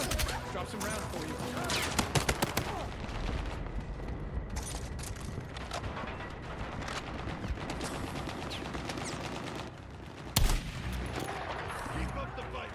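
Dense, sustained gunfire and explosions fill a Battlefield 6 campaign battle, with rapid shots and booms continuing throughout and a sharp loud blast near the end, voices faintly mixed in.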